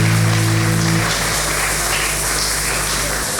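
A church congregation applauding, a dense, loud, continuous wash of clapping from many hands that fills the whole moment, with a low musical hum fading out after the first second.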